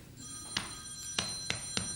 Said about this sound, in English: Tell Leaf the phone's for him